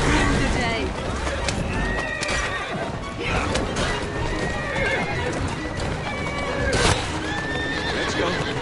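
Horse-drawn carriages in the Assassin's Creed Syndicate video game, with horses neighing and whinnying repeatedly over clattering hooves and rolling wheels amid busy game action and voices.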